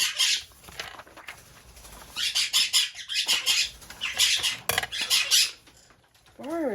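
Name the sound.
birds squawking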